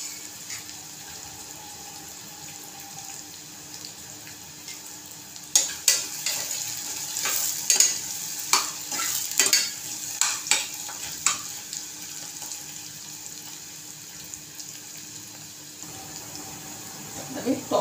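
Onions frying in a pan for a brinjal and potato curry. A steady low sizzle runs throughout, and from midway a series of sharp, irregular spoon scrapes and clinks stirs the pan, close and fairly loud.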